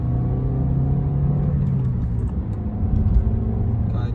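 Engine of a Toyota Auris 1.33 hatchback heard from inside the car, a steady low hum and rumble that swells slightly toward the end as the throttle opens, with no talking.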